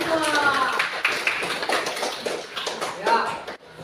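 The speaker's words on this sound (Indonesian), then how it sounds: "Tepuk tangan untuk kita semua." A classroom group claps together in a burst of scattered hand claps and taps, with children's voices and chatter mixed in throughout.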